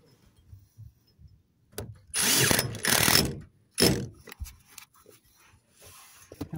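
Power drill driving screws into a tin roof while fitting tie-downs, two sustained whirring bursts of a couple of seconds each followed by a shorter third burst, close and fairly loud with quiet gaps between.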